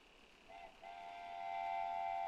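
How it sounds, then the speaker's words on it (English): A locomotive whistle in the Train Sim World 2 railway simulator, a steady sustained tone that swells in and holds, growing louder toward the end over a low rumbling cab background, with no talking. "The whistles sound terrible compared to my own whistle."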